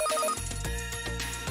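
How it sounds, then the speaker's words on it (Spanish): A telephone rings in a Christmas-season TV commercial: a short electronic ring burst opens, then gives way to a louder, denser musical bed with repeated pulses, all within a second and a half. "Teléfono, Papá Noel."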